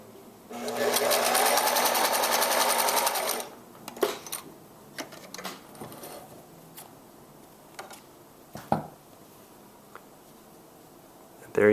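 A Singer CG 590 sewing machine runs a steady, buzzing stitch on scrap fabric for about three seconds, loud and close, followed by scattered clicks and handling taps as the fabric is adjusted.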